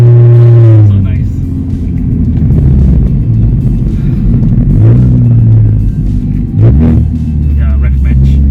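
Honda Civic Type R FK8 with manual gearbox cruises loudly with a deep engine drone, its rev-matching downshifts producing short rising and falling throttle blips midway and near the end, with cabin voices present.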